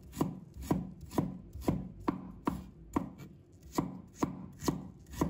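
A kitchen knife chops ginger into fine shreds on a cutting board, giving about a dozen crisp, evenly spaced strikes that land close and clear with no voices.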